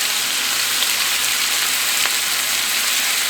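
Garlic hitting a hot frying pan for spam and shrimp fried rice, a loud, continuous close-up sizzle with a few faint stirring scrapes and no talking.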